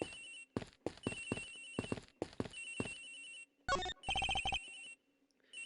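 A cell phone rings in Ace Attorney Investigations, a video game, in repeated electronic chirping bursts that end with a denser run of tones, clear and close against silence.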